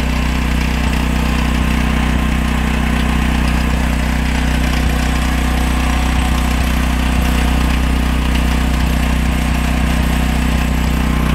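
A Duromax XP10000e generator fitted with a small silencer runs steadily right beside the listener, a loud, constant low engine hum and buzz with no change in pitch and no speech.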